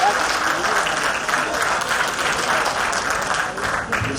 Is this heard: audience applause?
yes